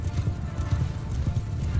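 Horse hooves gallop in the video game Mount & Blade II Bannerlord, a dense, rapid, low drumming that runs steadily through the whole stretch.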